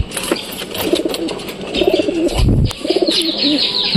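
Pigeons coo repeatedly inside a loft, several low burbling calls overlapping in an ongoing, fairly close chorus, with a few brief chirps and a short wing flutter near the middle.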